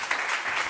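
A theatre-forum audience applauds the actors after a scene, a dense, steady wash of clapping that fills the whole brief moment at even loudness.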